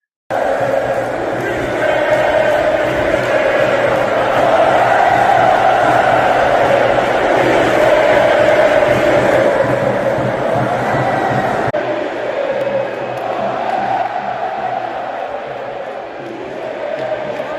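Flamengo supporters chanting together in the stands, a loud, continuous sustained crowd roar filling the whole stretch, dipping slightly in level partway through before carrying on.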